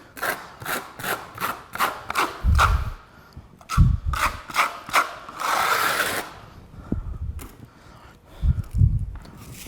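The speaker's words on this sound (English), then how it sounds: "we'll tape this off. So I'm going to, again, use the flat side of my trowel." A flat steel trowel face pressing and rubbing alkaline-resistant tape down over a tile underlayment seam, giving a run of short, regular scraping strokes close by, with a few louder thumps between them and a longer smear partway through.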